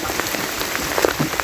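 Heavy rain pours steadily on a slippery hillside path, a dense, continuous hiss with scattered louder drops pattering on nearby surfaces, with no voices.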